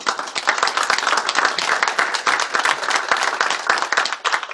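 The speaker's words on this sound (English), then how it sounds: "Can we give a warm round of applause for Brother Scott Wolter?" Audience applause for a speaker at a Freemasonry lodge evening on the Knights Templar, steady dense clapping from many hands filling the room without pause.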